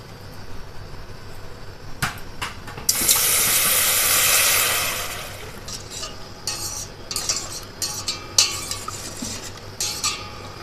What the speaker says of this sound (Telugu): ఇందులో వాటర్ పోసేద్దాం ఇప్పుడు మనం.